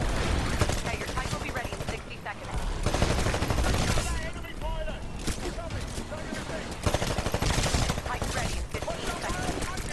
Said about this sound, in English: he killed me in my back with a damn stupid smart pistol